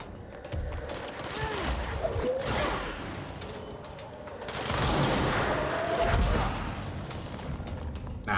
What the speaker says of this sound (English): Who's shooting at me? From where?